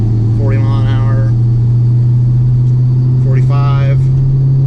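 Camaro SS LS3 with a Stage 3 tune drones at a steady low rumble from inside the cabin while accelerating through the gears, someone talking over it.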